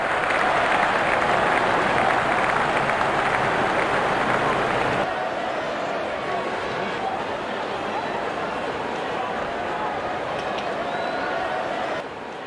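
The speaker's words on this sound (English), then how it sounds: "Out come the openers, cheered by a good crowd in." A good crowd at a Pakistan vs Sri Lanka T20 cricket match applauds and cheers steadily as the openers walk out, a dense wash of clapping that drops slightly in level midway and carries on throughout.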